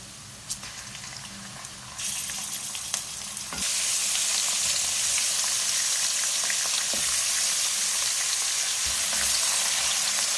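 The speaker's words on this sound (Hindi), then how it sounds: "चिकन डालने के बाद इसको मैं भूनूंगी प्याज के साथ" Half a kilo of chicken goes into a pan of hot oil with onions, cloves and black pepper, setting off a loud, close sizzle that jumps in intensity and then holds as a steady, crackling fry, with a few stirring knocks.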